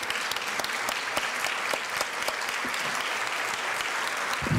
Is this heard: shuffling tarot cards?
no